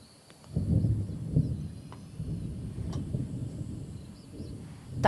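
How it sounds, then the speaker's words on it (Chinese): Thunder rolls over a rainy campsite with a rain canopy, a low deep rumble swelling and fading for several seconds, fairly near and heard alone. "打雷了。"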